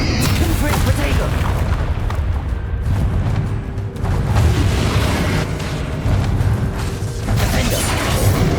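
Explosive spell blasts in Hogwarts Legacy combat form a continuous loud rumble of booms and crashes, with spell names shouted over the din.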